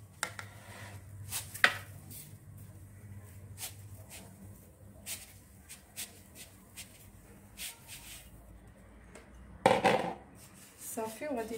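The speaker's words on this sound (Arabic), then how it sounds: "المهم انا غادي نضيف هاد السنيده ديالي على الليمون" Sugar being added to a bowl of lemons for homemade marmalade, with scattered soft rustles, a few clinks of a utensil against the dish and a louder pouring rattle near the end, fairly quiet and close.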